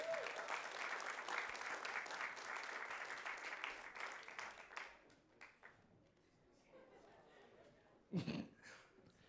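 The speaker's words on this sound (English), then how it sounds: "Big round of applause." An audience claps at the end of a solo and duo music contest heat, dense applause tapering off after a few seconds, followed by scattered noise and a brief voice near the end.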